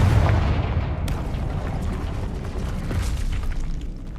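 Blasting fire spell going off in the Hogwarts Legacy video game, a dense rumbling boom with a sharp crack near one second, sustained loud low-end roar throughout with no talk.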